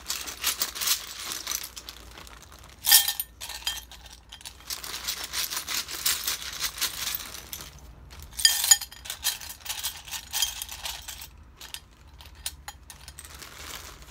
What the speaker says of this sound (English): the bag of seashells I'm going to be placing in her bowl